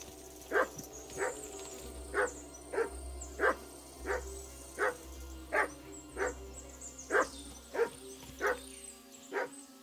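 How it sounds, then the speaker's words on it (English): A dog in the medieval video game Kingdom Come Deliverance 2 barks and attacks, giving about a dozen evenly spaced barks at moderate distance over a low steady hum. "Is that dog attacking me?"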